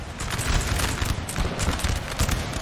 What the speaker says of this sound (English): Nice canister against the Grenadiers from Austria